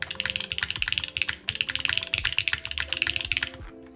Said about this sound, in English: I can see my volume meter just spike to full when I'm typing on this.